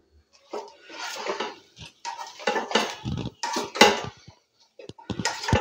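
Chilli chicken fried rice is stirred in a pan, with irregular close scraping and clattering of a spatula against metal in uneven bursts and brief gaps.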